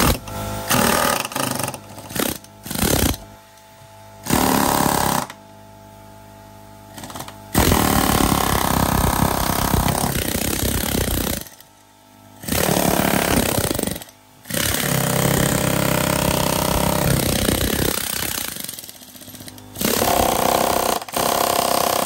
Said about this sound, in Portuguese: eu vou tirar esse piso agora, na britadeira